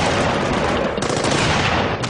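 Dense, continuous heavy machine-gun fire from a Russian DShK 12.7 mm (.50 calibre) machine gun, loud and close, with rapid overlapping bursts running the whole time, during an ambush in Afghanistan.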